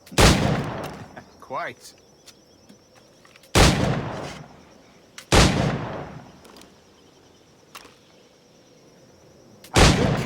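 Single firearm shots in Assassin's Creed IV Black Flag, four loud separate blasts spaced a few seconds apart, each with a short decaying tail, with someone speaking briefly between them.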